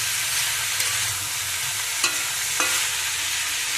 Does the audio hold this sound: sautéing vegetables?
yes